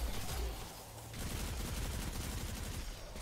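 Rapid bursts of Anarchy grenade launcher fire and explosions from Destiny 2 crackle in a dense, continuous volley.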